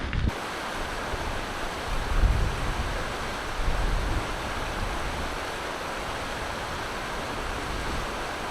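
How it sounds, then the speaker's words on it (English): Steady rushing river water churns on without a break near the Palouse to Cascade Trail, a broad, even roar with slight swells, and no voices. "Every once in a while you just hear the churning of the river"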